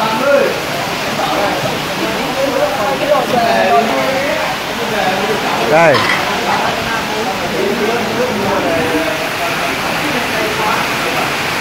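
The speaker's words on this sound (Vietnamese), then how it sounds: "Ôi giời ơi, mưa to quá." Heavy rain pours steadily as a dense, continuous wash of noise at a family memorial gathering in a Thai Bình village, with voices talking over it throughout.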